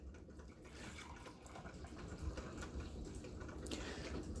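Freshly brewed dark coffee poured into a cup gives a soft continuous liquid trickle, faint and close, with no talking.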